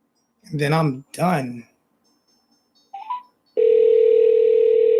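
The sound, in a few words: telephone dial tone while placing a call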